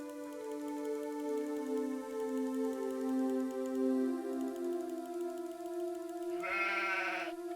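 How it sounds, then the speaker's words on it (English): A goat bleats as a hidden Easter egg in the 1996 computer game Phantasmagoria 2: A Puzzle of Flesh. A long, wavering tonal call plays clearly and alone, ending in a harsher, buzzier burst. "Click 20 times on the nostril to hear it bleat."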